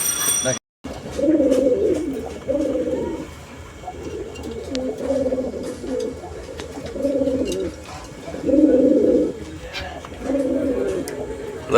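Female fancy pigeons cooing close by in repeated soft, throaty bursts of rolling coos, with a brief gap near the start and faint background noise.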